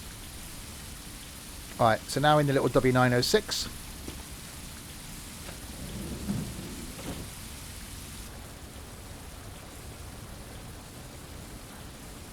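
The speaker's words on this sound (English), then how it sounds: "And it's still raining." Steady rain with a low rumble of thunder in Tourist Bus Simulator, a constant wash of falling water running throughout, with a brief burst of nearby talk over it early on.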